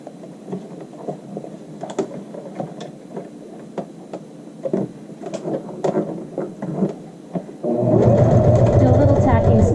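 Sewing machine stitching a child's shirt facing to its seam allowance, running in short bursts and then one steady, louder continuous run near the end.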